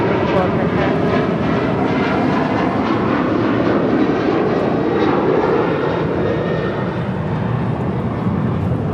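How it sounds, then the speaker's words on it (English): A United Airlines Boeing 737-900ER departs LAX for Houston with a loud, close, unbroken jet engine roar that holds steady for the whole stretch. "This is United Airlines 1416 departing to Houston Intercontinental on a 737-900 ER"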